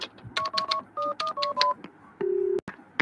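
Phone dialing in the video game Max Payne: a quick run of clear touch-tone keypad beeps in short bursts, then one longer, lower tone, close and alone with no talking.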